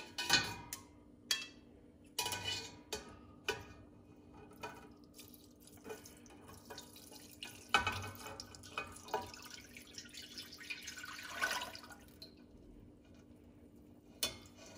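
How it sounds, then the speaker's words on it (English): Fresh-squeezed pomegranate juice drips and trickles through a strainer, making soft, irregular splashes and drops at close range against a quiet background with no talking. "I've got our fresh squeezed pomegranate juice and I'm just going to put it through a strainer."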